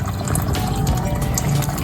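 Water filter running in a crayfish farm tank, giving a steady, close wash of pouring and trickling water that continues unbroken through the short stretch.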